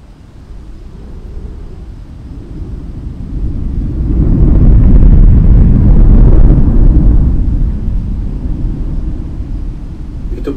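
Strong snowstorm wind roars around a house in a heavy blizzard, a steady low rumble that swells to its loudest midway through before easing slightly, with no voices over it.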